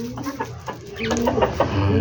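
Hens clucking nearby in short, irregular bursts, several soft calls overlapping against a low outdoor background hum, including a Texas chicken.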